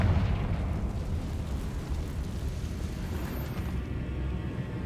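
Confringo fire-spell explosion in the video game Hogwarts Legacy, a loud, low, rumbling blast that starts strong and rolls on as a dense, fading roar for several seconds, with no talk over it.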